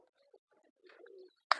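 Firozpuri Teddy breed pigeons coo softly in low, murmuring bursts. A sharp, louder click follows near the end, with no talking.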